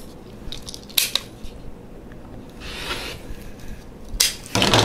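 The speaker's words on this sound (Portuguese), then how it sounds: "E eu vou cortar." Scissors snip through fabric while a patchwork quilt block is trimmed along a seam, giving a few close, crisp cuts separated by quiet pauses.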